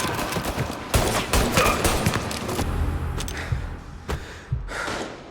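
Gunfire in the video game Mafia: Definitive Edition, a dense fusillade of shots with sharp cracks and rattling bursts over several seconds, loud and close, thinning out toward the end.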